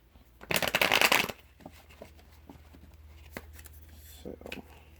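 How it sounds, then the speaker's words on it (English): A Voodoo tarot deck is shuffled close up, giving a brief loud riffling burst of cards. Quieter taps and card handling follow during a calm reading. "3 shuffles."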